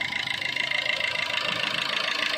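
A Maruti Ertiga ZDi Plus top-end diesel engine runs at a steady idle, with a close, even mechanical hum and a light rhythmic knock throughout, with no talk.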